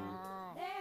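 A single domestic cat meows once, a short tonal cry that bends in pitch partway through, fairly faint and heard alone.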